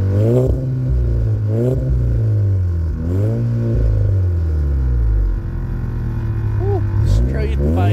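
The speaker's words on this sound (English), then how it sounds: "Tell us what you think about the exhaust," A loud, raspy straight-piped Toyota Corolla exhaust revs repeatedly, engine pitch rising and falling with crackling, rumbling idle between blips, very close.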